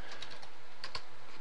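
Keys clack on a computer keyboard in short bursts, a few quick strokes followed by a brief pause and a couple more, close and clear with no talking.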